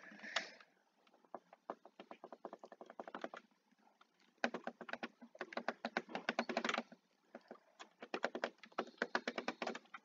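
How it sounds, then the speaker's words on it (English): Rapid bursts of key and button clicks from random presses while playing a JavaScript computer game, dense clattering runs broken by short pauses, close and fairly quiet with no talking. "I am just randomly clicking buttons, hoping that I'll hit them."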